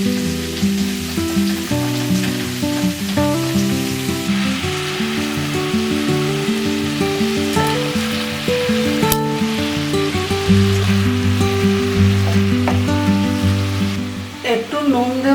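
Chopped radish goes into a pan of fried potatoes and sizzles loudly, a dense steady crackle with occasional stirring knocks near the end.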